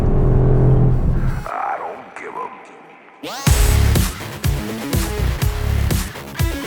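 Mercedes-AMG GT R race car on a track, its engine roaring loud and close after a quieter opening with talk, then a run of sharp surging revs and gear-change bursts.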